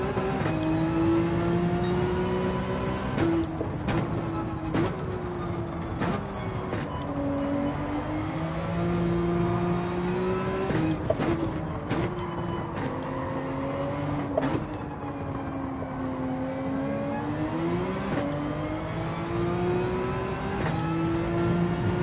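A Toyota Supra race car in Gran Turismo 7 drones steadily at high revs, its engine pitch rising and falling through gear shifts, with sharp clicks scattered throughout and no voices.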